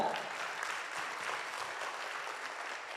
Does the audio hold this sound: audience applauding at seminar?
yes